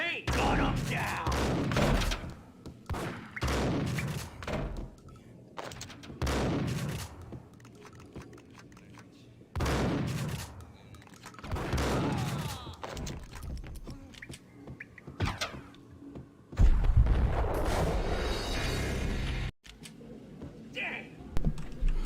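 Gunfire in the Max Payne action game, scattered shots and short bursts breaking between stretches of character dialogue, with a loud volley near the end.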